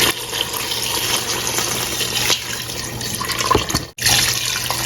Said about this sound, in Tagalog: lagyan na natin siya ng maraming tubig.